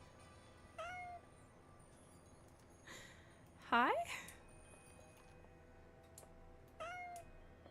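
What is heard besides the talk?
black cat meowing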